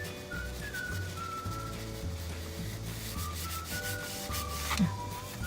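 A pencil drawing a wood grain pattern on paper makes a soft, steady rubbing scratch up close, with a whistled melody over it.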